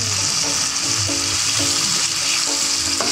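Chili paste hitting a hot pan of aloo keema sets off a loud, steady sizzle of frying oil, with light scraping of a spoon stirring through it, no voices.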